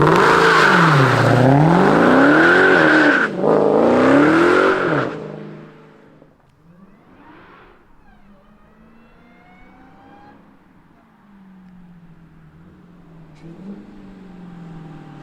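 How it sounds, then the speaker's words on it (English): A 2022 Dodge Challenger Hellcat Jailbreak revs hard twice at close range with loud, sweeping engine tones, then drops back to a quieter idle with a faint whirring rise. "let's fire up this beast and hear its sound"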